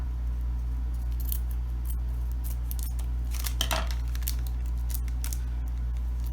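Stationery clips in a small Ziploc bag are handled and opened, with a quiet crinkle and rustle of plastic, a few light metallic clicks and snips over a steady low background hum, no talk.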